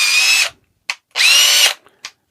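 A Makita BDF456 cordless drill runs after its trigger switch was replaced: two loud, close bursts of whining motor, each followed by a short blip, with no talk.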